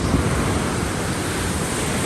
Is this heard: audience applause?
no